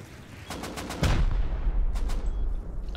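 Rapid automatic gunfire in Rust: a quick string of close shots that swells into a heavier, louder burst after about a second and keeps rattling to the end, with no talk.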